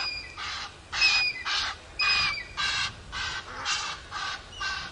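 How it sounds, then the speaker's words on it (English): Angry squirrel giving a harsh, cackling alarm call at a dam during a sunrise safari drive, a run of about nine rapid rhythmic bursts, fairly close and loud over a quiet outdoor background. "Don't you think a squirrel alarm call sounds like a witch's cackle?"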